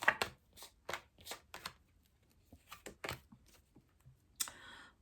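Tarot cards are shuffled and drawn in quick, crisp bursts, a handful of soft papery flicks and snaps close by and faint, separated by short pauses, with no voice.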